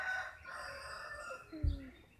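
Rooster crowing once, a short rising-and-falling call over faint room noise, with a low thump near the end.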